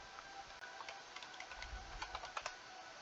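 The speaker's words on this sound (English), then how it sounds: "Hit some shortcut on my keyboard, it created all that extra junk" Quiet, rapid clicking of keys on a computer keyboard while coding, an irregular run of taps that clusters into a faster burst toward the end.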